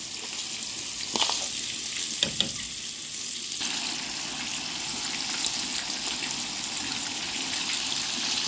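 Rice tipped into a hot, sizzling pot while cooking a snake-shaped rice dish, giving a steady close frying hiss with a few brief clatters and a shift in tone partway through, no talk.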